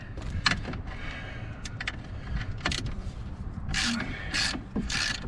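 A hand ratchet wrench cranks lug bolts into a Jeep wheel during a wheel bearing repair, making steady clicking under a noisy workshop background with a few sharper metallic clacks.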